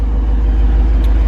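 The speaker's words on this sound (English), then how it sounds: "Let's hear how it sounds, how it's rumbling." Steady low rumble of a 2021 Jeep Wrangler Rubicon 392 with its V8 HEMI and dual exhaust, idling loud and close with an even, unbroken drone and no talk.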